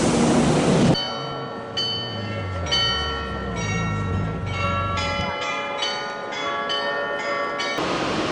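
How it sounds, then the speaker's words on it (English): A train to Frankfurt sits in a station, with a rumbling low hiss under a run of sustained, tonal chimes or bell-like ringing repeating over several seconds. "So this is my train to Frankfurt."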